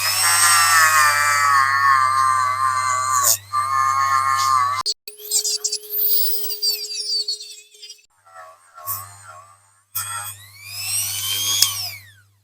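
A small power tool whines loudly at high speed as it polishes the axles of a Dinky Toys Austin diecast toy truck under restoration. The whine stops and starts in bursts, with brief pitch changes and gaps between runs.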